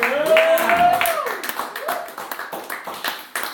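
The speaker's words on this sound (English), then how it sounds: "Let's give one more round of applause." A brief round of clapping from a small group, with a voice speaking over the start before the scattered handclaps carry on and taper off.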